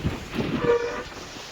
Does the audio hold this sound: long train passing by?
yes